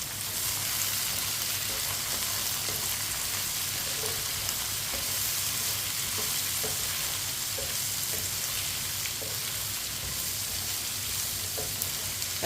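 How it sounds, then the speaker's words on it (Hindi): Shredded cabbage, potato, tomato and capsicum for a sabzi fry in a pan with a soft, even sizzle and occasional stirring clicks, steady and fairly quiet throughout. "मिक्स कर लेंगे सब चीज़ों को।"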